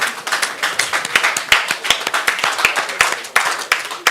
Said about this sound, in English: Can you please give me a hand of applause?